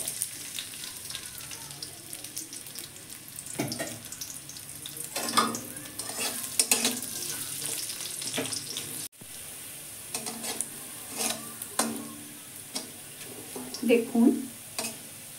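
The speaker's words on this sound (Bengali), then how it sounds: "একটা পেঁয়াজ আমি বেরেস্তা করে নেব।" Sliced onion frying for birista in a pan, with steady sizzling, stirring scrapes and clinks of a utensil against the pot while someone talks over it.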